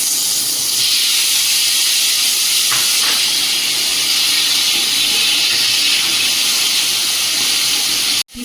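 Scrambled eggs with tomatoes fry in a pan, giving a loud, close, continuous sizzle that holds steady for about eight seconds before cutting off abruptly.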